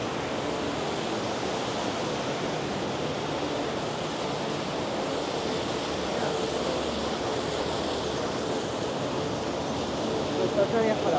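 Steady broadband rush of a waterfall in Adventureland at Disneyland Paris, continuous and fairly loud throughout, with faint crowd sounds mixed in.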